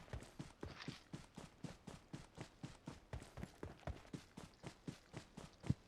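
Horse hooves in the mobile game BGMI: a steady, even clip-clop trot of regular hoofbeats, quiet and continuous, heard alone throughout.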